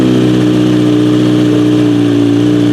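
A Kawasaki Z900RS motorcycle with a Stage 2 tune runs on a dyno, its engine holding a loud, steady, droning rev close by for a few seconds with no talk.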